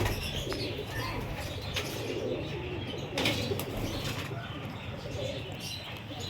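Pigeons cooing and flapping their wings amid a steady outdoor wash of sound, with a few sharper wingbeat bursts, moderately distant and continuous throughout.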